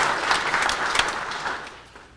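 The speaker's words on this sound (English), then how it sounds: "Could we get a round of applause, please" Audience applause at a science lab ribbon cutting press conference in Campbell County, steady dense clapping that gradually tapers off toward the end.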